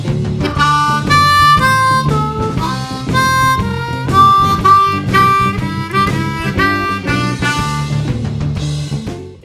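A bluesy V-IV-I lick of bent, wailing harmonica notes over a low chugging accompaniment, loud and continuous for several bars.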